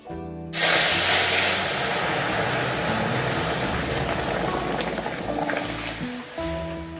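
A sudden loud hiss erupts as red lentils drop into hot oil, then settles into a strong, steady sizzle.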